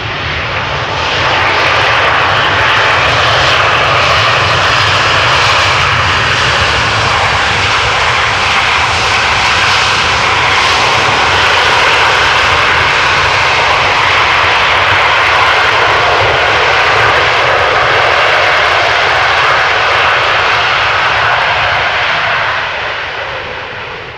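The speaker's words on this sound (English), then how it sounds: "Turns out that the A321neo can be quite loud when the reversers are being fully applied." A loud, sustained roar of an Airbus A321neo landing at Amsterdam Schiphol with thrust reversers fully applied, broad and rushing, holding steady for many seconds before easing slightly at the end.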